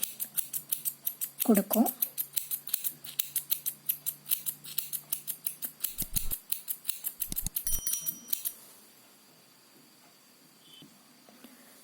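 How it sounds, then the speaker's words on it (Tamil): Scissors snip rapidly and rhythmically, many crisp close cuts in quick succession while trimming a yarn pom pom, with a brief spoken word early on, then the cutting stops and near-silence follows. "ஸோ நான் இப்போ என்னுடைய பாம்பாமை வந்து ஃபுல்லாக ட்ரிம் பண்ணியாச்சு"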